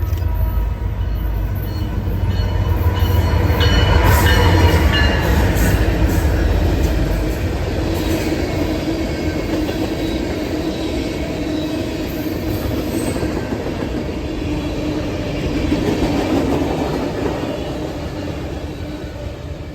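A BNSF freight train passes on a run from the BRC Belt in Chicago to Argentine Yard in Kansas City, Kansas. It rumbles loud and steady for the whole stretch, with wheel clatter and some squeal from the rolling cars.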